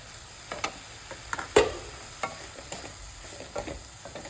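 Banana flower poriyal with coconut being stirred in a hot pan, a spatula scraping and clacking in scattered strokes over a soft, steady sizzle, fairly close and alone.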